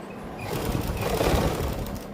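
A sewing machine stitching along a folded fabric strip for a suit neckline patch, a steady close mechanical whirr with rapid needle clatter for about two seconds.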